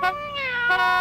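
A cat in The Sims gives a single clear, drawn-out meow with a rising then falling pitch, close and loud with no talking.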